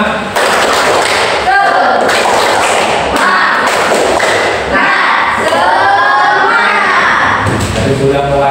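A group, children among them, claps out a rhythmic spirit cheer in a class session, sharp hand-clap thuds in quick patterned bursts, loud and close, mixed with chanting voices.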